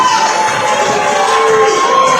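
A hometown crowd at a Massachusetts wrestling show cheers for wrestler Duce Beretta, a loud, continuous roar of many voices with a few higher shouts rising through it.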